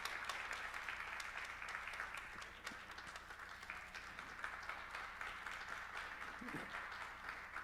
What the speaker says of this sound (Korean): 다 같이 박수로 축하하도록 하겠습니다